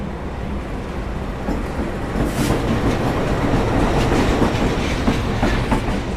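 A CC206 locomotive being coupled to train carriages, with continuous loud rail rumble and clattering wheel noise building slightly after two seconds, alone with no talk.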